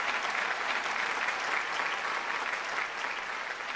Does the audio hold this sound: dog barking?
no